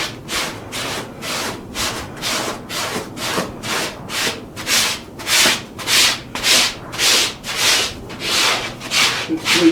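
Deer hide being worked into buckskin is rubbed and smoothed with a tool in a steady back-and-forth rasping rhythm, about twenty close strokes that grow louder toward the end.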